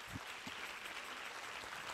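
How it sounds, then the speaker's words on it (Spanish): A church congregation applauds the Lord during a Spanish-language sermon, a steady, dense wash of clapping that fills the whole moment without pause. "que lo confirme con un fuerte aplauso para el Señor"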